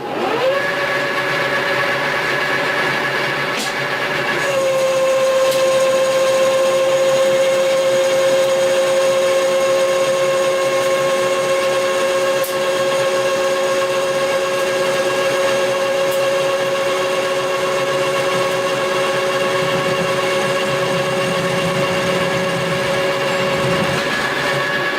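A machine tool takes a facing cut across metal with a chip breaker insert, giving a steady, loud cutting whine with sustained tones that holds from start to end after a brief change in pitch near the beginning.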